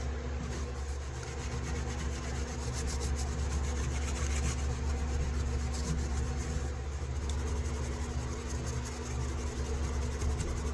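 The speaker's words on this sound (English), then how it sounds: "if you rub really hard and fast, it gets hot" Steady hand rubbing of Mothers polish onto metal, a continuous brisk scrubbing friction noise over a low background hum, with no talking.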